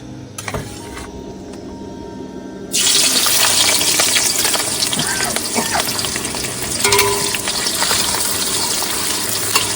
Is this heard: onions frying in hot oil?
yes